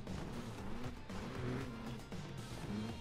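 Car engine drone from the Trials Evolution video game, a steady moderate motor hum with shifting pitch running continuously throughout.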